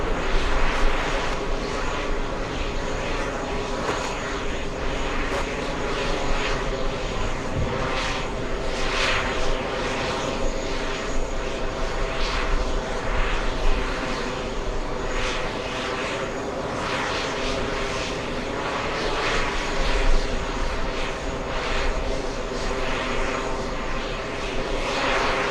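A Boeing 777 taxis at an airport with its flight cancelled over a possible mechanical fault, its jet engines giving a steady, loud, unbroken roar for the whole stretch.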